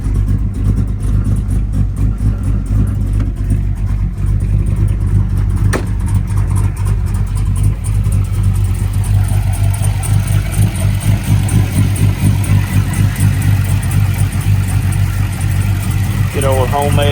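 Chevrolet S10 truck with a swapped LSXRT V8 running steadily, its engine drone heavy and constant while loose parts rattle throughout, with voices talking over it.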